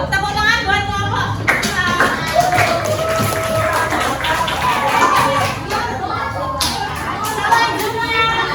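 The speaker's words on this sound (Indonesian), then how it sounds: "Tepuk tangan buat kelompok." A sixth-grade class breaks into clapping for a group of students, a dense patter of many hands in a room, with children's chatter and voices mixed in.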